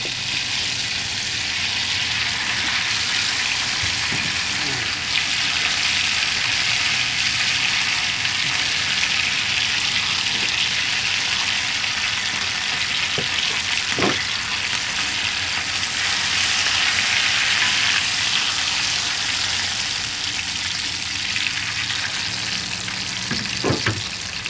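Tawa chicken fries in oil with a steady, close, crackling sizzle that runs unbroken throughout, marked by occasional faint clicks from stirring and no talking.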